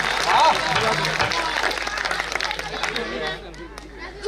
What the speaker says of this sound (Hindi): दोनों हाथ ऊपर उठाकर तालियां बजा करके